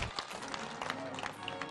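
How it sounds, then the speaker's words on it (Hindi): A studio audience at a televised political debate applauds to welcome a Samajwadi Party guest, a dense, steady patter of clapping with scattered sharper claps heard throughout. "तालियों के साथ स्वागत कीजिए"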